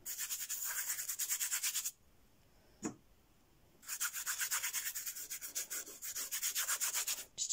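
A brush scrubs burnt sienna oil paint onto canvas in quick, close, rhythmic strokes, pausing once for about two seconds with a single tap before the bristly scrubbing resumes.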